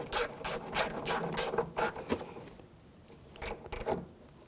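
Ratchet clicking in short quick bursts with brief pauses as a battery bracket bolt is tightened on a 2007-2013 BMW 328i, close and fairly quiet, no voices.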